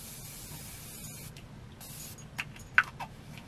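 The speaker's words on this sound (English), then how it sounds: "then I'm going to go back into the setting spray just lightly" Makeup setting spray misted lightly in a few short, soft hissing bursts, close and fairly faint over quiet room noise.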